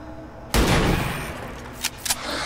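A rifle shot fires suddenly in the XCOM 2 video game, with a loud burst followed by a lingering rumble and a couple of smaller clicks and impacts afterward.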